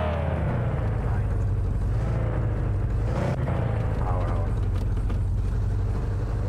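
A truck engine drones steadily while the vehicle is driven in The Radio Station, a Japanese horror video game, giving a loud, continuous rumble throughout.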